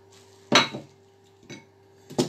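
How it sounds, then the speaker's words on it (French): Utensil scraping a small bowl in a home kitchen while making chestnut cream for a Yule log cake, heard as three short clinking, scraping bursts of spoon against the bowl at close range with a low steady hum beneath. "Je racle bien mon petit bol."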